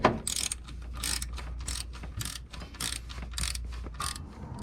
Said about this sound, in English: I love this ratchet and I hate it at the same time